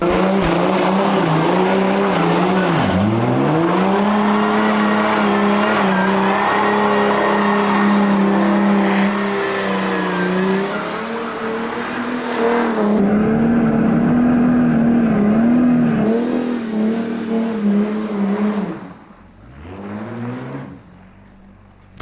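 A diesel TA2 Trans Am race car engine roars loudly as it accelerates, holding a strong steady drone, with a pitch dip early, before fading away near the end.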